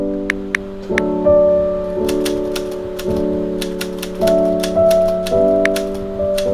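Loud mechanical keystrokes in a steady rhythm with sharp clicks, accompanied by sustained tonal chimes that shift pitch every second or so.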